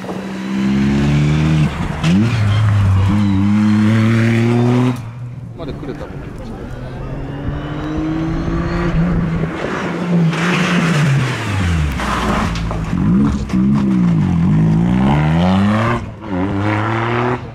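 Toyota GR Yaris rally car at a Japanese national rally stage, engine revving hard through repeated gear changes, rising and falling as it accelerates nearby, with a commentator talking over it throughout.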